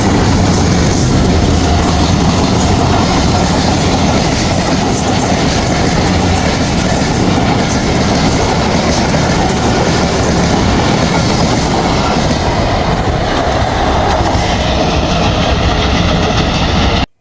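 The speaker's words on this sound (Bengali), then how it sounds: "এই যে ট্রেন চলে আসছে জগতী রেল স্টেশনের।" A train arrives at Jagati railway station, passing at speed with a loud, continuous rumble and clattering of wheels on rails. It holds close and steady for the whole stretch before cutting off at the end.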